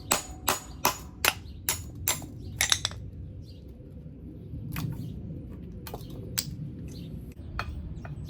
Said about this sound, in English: then we can hammer out the these little rings that are in there